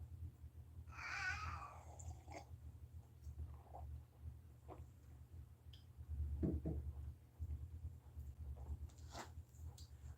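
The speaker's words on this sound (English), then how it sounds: "That's what the cat's saying?" A house cat meows once near the start, a short high cry followed by faint shuffling and a low steady hum in a quiet room.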